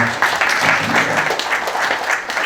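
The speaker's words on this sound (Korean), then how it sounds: "우리 모든 분들을 향해서 감사 보내, 박수 보냅시다" A church congregation applauds in thanks at a prayer meeting, a steady wash of clapping with faint tonal sound underneath.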